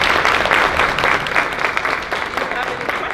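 Audience applause after a talk by Dr. Buckley: steady, loud clapping from a crowd that continues throughout, with a voice faintly mixed in underneath.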